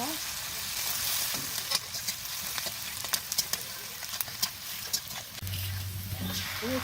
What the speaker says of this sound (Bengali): পেঁয়াজ কুচি, একটু নেড়ে চেড়ে নেব